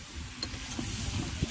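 Tomato frying in a pan at a village market gives a soft, continuous sizzle broken by a few scraping stir knocks, heard close with no speech.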